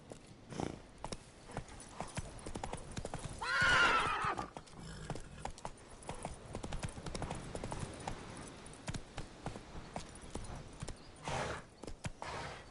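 A horse in the video game Witcher 3 gallops with rapid, rhythmic hoofbeats and lets out two loud, shrill whinnies, one early and one near the end, with no talk over it.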